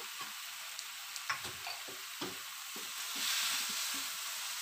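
Seasoned chicken feet, large ones, being stirred in a frying pan for rica-rica, with a steady sizzle and irregular scraping and clinking of the utensil against the pan, close and fairly quiet.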